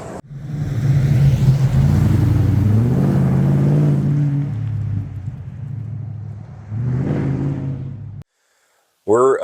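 A 1971 Ford F250 highboy truck built by PRD Design driving a winding canyon back road, its engine droning and rising close by, then easing off before a brief silence and a voice at the end.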